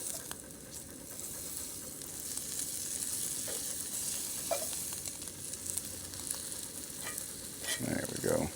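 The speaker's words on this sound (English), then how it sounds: "Now we got some sizzle." Jalapeño bacon fries in a pan at a truck campsite, a soft, constant sizzle broken by a few light clicks and a brief louder clatter near the end.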